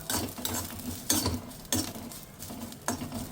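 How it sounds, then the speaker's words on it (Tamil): Crushed garlic cloves, skins still on, fry in oil for a gunpowder spice mix, with soft patter broken by several louder scrapes and clinks of a spoon against the pan at steady intervals. "நல்லா க்ரஷ் பண்ணிவிட்டு போட்டு நல்லா ப்ரௌன் ஆகிற வரைக்கும் வறுத்துடலாம்."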